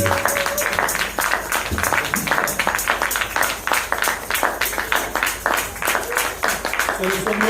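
A church congregation claps in a steady rhythmic beat during a service, each clap sharp and close, keeping time for several seconds with voices faintly underneath.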